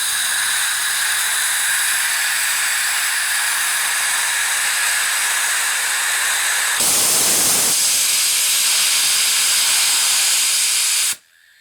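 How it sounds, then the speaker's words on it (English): Loud continuous steam hiss blows off steadily from a steam boiler, briefly intensifying into a rougher rush, then stops suddenly. "That's blowing off steam right there."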